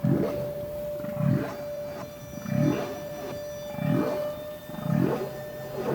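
Repeated deep underwater whooshing pulses from a humpback whale releasing air bubbles to build a trap, about one each second and a quarter, rising and falling evenly in a steady rhythm over a faint constant tone.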